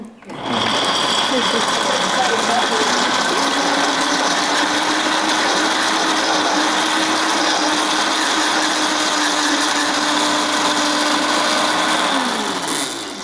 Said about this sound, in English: first we will be processing 1 cup, I have a little more, of hazelnuts